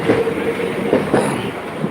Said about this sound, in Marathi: बघा समोर ट्रेनच आहे